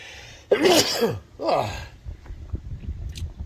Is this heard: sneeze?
yes